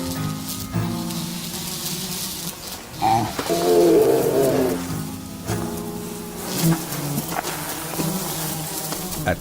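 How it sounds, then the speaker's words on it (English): Flying insects buzz in the Arctic heat, a steady droning hum that carries under a soft music bed, swelling louder for a few seconds midway before settling back. "At least the bugs get to eat."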